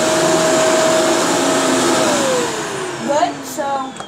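A vacuum sweeper bought at Target runs with a loud, steady motor whine that then shifts and winds down in pitch, with a few rattling bumps near the end.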